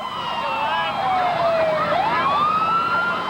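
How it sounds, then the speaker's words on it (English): Loud wailing emergency vehicle sirens sweeping up and down in pitch, several overlapping tones blaring close by as the vehicles approach. "you could hear the sirens and all coming"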